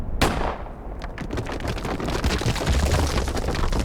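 A single sharp gunshot rings out near the start in a sci-fi point-and-click adventure game, followed by a dense rumbling, crackling tail that swells toward the end, suggesting falling debris or a landslide.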